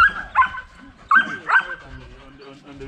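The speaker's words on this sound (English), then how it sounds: "The breed is a Dutch Shepherd, and he is a detection dog." Several sharp barks from a Dutch Shepherd detection dog in quick bursts, fairly close, with short gaps between them and a quieter stretch afterward.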